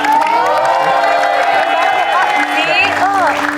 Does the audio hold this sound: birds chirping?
no